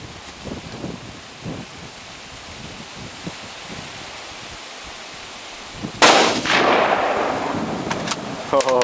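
One suppressed shot from a Dragunov Tigr rifle cracks out sharply and decays quickly, following several seconds of quiet outdoor rustling.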